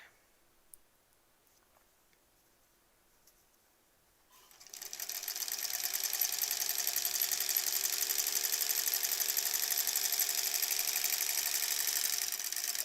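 A sewing machine stitching a quilt block starts after about four seconds of near silence, then runs at a steady fast whirring hum close by, continuous to the end with no talk.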